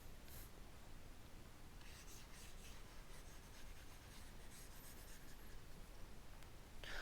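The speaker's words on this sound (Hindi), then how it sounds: "तो मैं इसे वापस लिखता हूँ।" Pen or pencil writing by hand on paper or a board during a Hindi physics lesson on conservation of momentum, a soft continuous scratching and rubbing close by, with quiet room noise and no talk.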